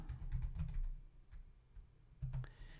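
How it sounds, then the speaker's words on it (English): Quiet clicking of keys on a computer keyboard in short bursts, a cluster of taps, a pause, then another quick burst near the end, close and soft with no talking. "I'm gonna have to type this in."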